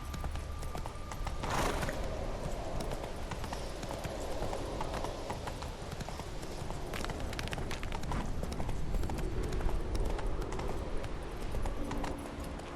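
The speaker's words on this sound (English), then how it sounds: "Run, Roach." A horse galloping in The Witcher 3, with steady rhythmic hoofbeats and game ambience running continuously, fairly close and alone without talk.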